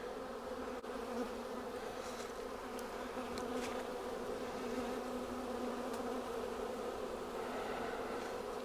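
A dense swarm of honey bees drones steadily around a packed triple-deep hive and swarm trap, a continuous, even buzzing close by with occasional louder individual bees passing near.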